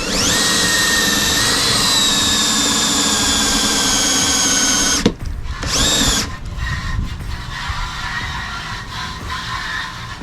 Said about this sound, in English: I might need to run an extension cord and use my actual big drill